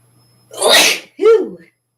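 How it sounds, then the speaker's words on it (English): A single person sneezes loudly and close by in a sharp two-part burst, a noisy inhale-release followed by a short voiced tail, with quiet before and after. "I'm going to sneeze."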